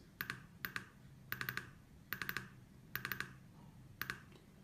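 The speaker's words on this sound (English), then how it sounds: "the click sound when I click the mouse sounds like this" Sharp, crisp clicks of a Logitech Ultrathin Touch Mouse T630 in quick pairs and bursts, evenly spaced, close up and fairly quiet against a soft background.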